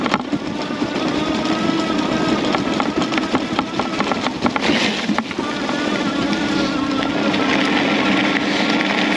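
A Cyrusher Kommoda electric fat bike motor whirs steadily on wet trails, a continuous hum blended with rolling tire and wind noise at constant loudness.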